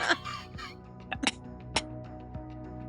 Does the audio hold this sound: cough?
yes